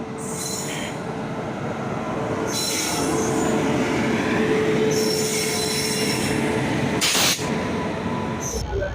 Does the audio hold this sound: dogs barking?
no